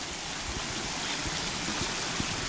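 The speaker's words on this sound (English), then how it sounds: "this little stream runs right through their front yard" After heavy rains, a little stream flows through a front-yard channel at Murphy's Run, giving a steady close rushing hiss of water with faint gurgles and no voices.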